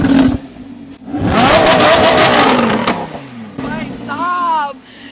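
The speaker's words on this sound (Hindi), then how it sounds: "अब क्योंकि गाड़ी ऑन हुई है तो जरा इसका रॉर भी सुना देते हैं। रेव करना एक बार।" A car with a stock, factory exhaust is started and revved, its engine rising into a loud roar that swells and fades, with people talking over and around the revs.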